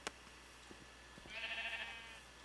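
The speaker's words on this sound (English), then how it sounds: "Brown sheep." A brown sheep in the Minecraft video game lets out a single drawn-out bleat, fairly faint and clear, after a few soft clicks, with no talking over it.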